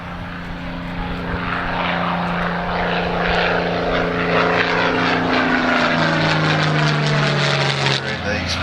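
Spitfire flying past at an airshow, its piston engine and propeller droning loudly, the pitch sliding as it passes, with a commentator talking over it.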